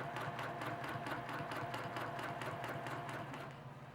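A sewing machine runs continuously while stitching a quilt row, a fast, even mechanical whirr with a rapid needle tick, quiet and close, steady throughout with a slight dip near the end.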